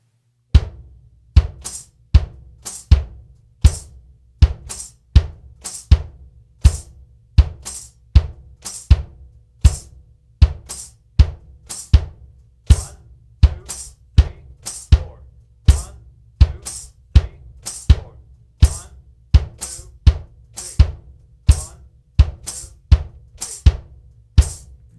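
A drum kit plays a 3/4 over 4/4 polyrhythm, the bass drum holding steady quarter notes while sharp cymbal and snare hits recur in an even, driving pattern, close and loud.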